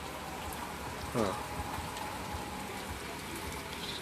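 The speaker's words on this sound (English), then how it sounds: "I ain't know it was gonna rain at all." Rain falls outside on a rainy day as a steady, even hiss, with a brief voice heard once near the start.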